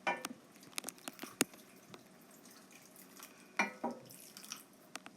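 Clams spitting and popping open in a pan of seafood risotto with calamari and shrimp, heard as scattered sharp ticks and sputters over a low simmering hiss, some bursts clustered, all fairly faint.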